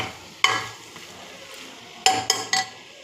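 Mutton curry with garam masala is stirred in a pan over a low background sizzle, with a few sharp scrapes and clinks of the spoon against the pan.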